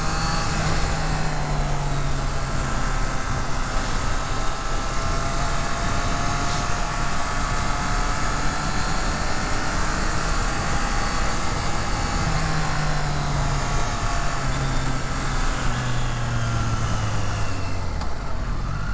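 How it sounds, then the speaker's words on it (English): A 2024 Triumph Trident 660 motorcycle engine drones loudly and steadily with rushing wind noise throughout, its pitch rising and falling gently as it rides along. "I'll let you guys hear the engine."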